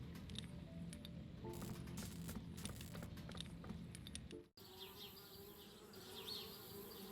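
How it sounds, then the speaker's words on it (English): Bees buzzing around a treehouse in the Anna's Quest video game, a close, continuous insect drone that is interrupted briefly by a cut partway through and then carries on. "Darn bees, trying to move into our treehouse."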